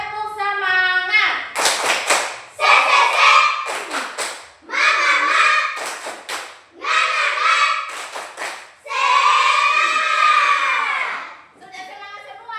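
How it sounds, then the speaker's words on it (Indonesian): Schoolchildren perform a rhythmic spirit clap in a classroom, bursts of clapping in a patterned beat alternating with shouted group chanting, close and loud. "kita akan tepuk semangat. 1, 2, mulai. Tepuk semangat."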